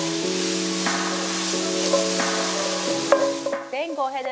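Vegetables seasoned with salt and pepper are stirred in a hot pan, a steady sizzle broken by the scrape and clatter of a utensil, close and clear, ending in a brief burst of stirring noise.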